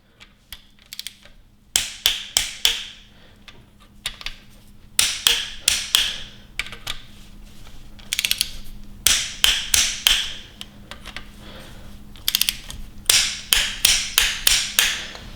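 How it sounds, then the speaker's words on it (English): A torque wrench tightens bolts to 106 inch-pounds on a 5.7L Hemi engine during assembly, giving sharp, rapid clicks in repeated bursts with brief pauses between them, close and clear, with no talking. "This is going to go to 106 inch-pounds. So, with this one, I've got inch-pounds, as you can see. And I'm going to go ahead and tighten this up."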